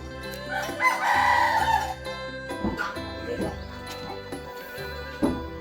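A rooster crows loudly and close by in a rural Thai village, its long call rising and falling, followed by scattered clucks and some background talk.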